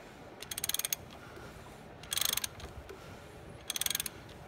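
Hand-cranked engine rotation on a 2011 Ram 2500 with the 5.7 Hemi, heard as three separate bursts of rapid ratchet clicks spaced over a few seconds, close and crisp with quiet gaps between, no speech.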